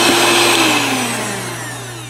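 A HOMEJOY 5-speed electric hand mixer whirs steadily as it beats a mixture with sugar added, a loud close motor hum that slowly eases in pitch and volume.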